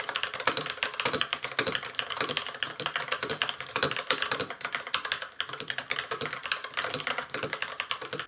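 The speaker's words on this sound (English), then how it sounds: "I'm sure many of you are curious as to how the keyboard sounds," A mechanical computer keyboard on a minimalist student desk clatters with fast, continuous typing, dense steady keystrokes heard close and alone.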